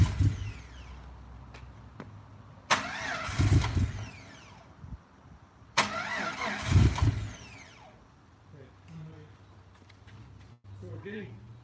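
A rebuilt car engine cranks over in two separate start attempts, each a loud whirring burst lasting a second or more with a pause between, and it does not catch; people talk nearby during the pauses.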